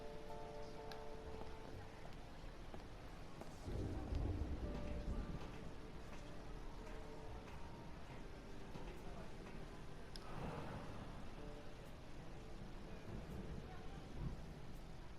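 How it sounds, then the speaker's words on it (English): Thunderstorm with rain in the video game Blues and Bullets: a constant low wash of rain and wind, with two deep rolling thunder rumbles several seconds apart. Faint voices sit under the storm. "You think it's going to be a quiet day and suddenly the storm hits you."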